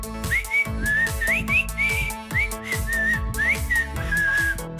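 A person whistles a lively, repeating tune, clear and close, with a steady musical backing underneath and no talking.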